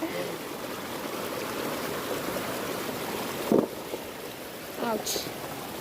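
Water rushing strongly along a river channel where fish are caught in a basket, a steady broadband roar throughout, with a couple of brief louder splashes or knocks and voices speaking over it.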